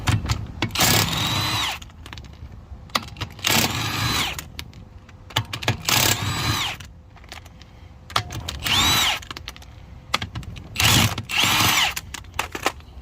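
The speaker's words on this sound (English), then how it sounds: "I'm using Milwaukee 18 volt from Home Depot, again 17 millimeter socket with scuff guard" Repeated bursts from a Milwaukee 18-volt impact tool driving a 17 mm socket with scuff guard on the wheel of a 2020 Volkswagen Tiguan, about six loud, close ratcheting runs separated by short pauses.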